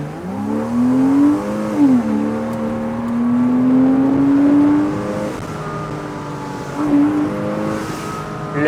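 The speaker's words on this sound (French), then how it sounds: "on va faire une accélération juste ici afin de faire de quoi de puissant" A 2008 Porsche Boxster roadster accelerates hard: a close, loud engine note climbs through the revs, dips briefly at a shift, then pulls steadily again, with no voices over it.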